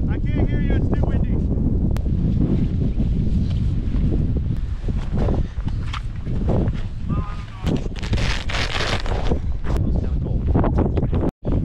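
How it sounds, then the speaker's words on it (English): Strong wind buffets the microphone with a constant roar while people talk underneath, their voices partly drowned out. "I can't hear you, it's too windy."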